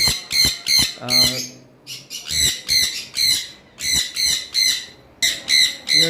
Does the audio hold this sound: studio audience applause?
no